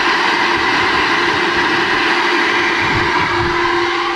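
A Sun Joe CJ603E silent 15-amp electric wood chipper runs steadily, a loud continuous mechanical hum with a constant whine and no pauses, with no talk over it.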